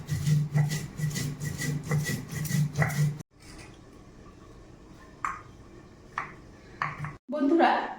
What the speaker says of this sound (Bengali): এটা আমি শিলে বেটে নেব।